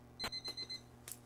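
A few short electronic beeps from an 8-bit computer game, evenly spaced, then a brighter tone after a pause, fairly quiet with a low steady hum underneath.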